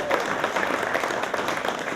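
An audience at a charter high school meet-and-greet applauds a newly introduced biology and science teacher, a steady, moderately faint patter of many hands clapping together throughout.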